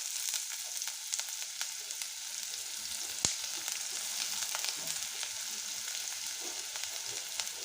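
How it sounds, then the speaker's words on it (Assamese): Finely chopped onion frying in hot oil gives a continuous, even crackling sizzle at close range, broken by one sharp clink partway through. "ইয়াত তেল গৰম হৈ গৈছে ইয়াত প্ৰথমে মই সৰুকৈ কাটি থোৱা পিঁয়াজখিনি দি দিম"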